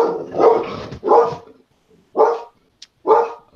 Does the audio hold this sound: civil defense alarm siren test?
no